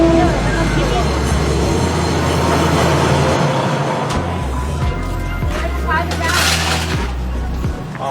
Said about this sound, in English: And I can hear the train coming now.